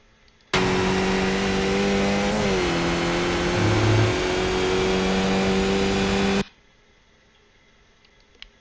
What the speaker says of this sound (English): 3rd gear already full throttle, because it's a big long stretch of full throttle coming up.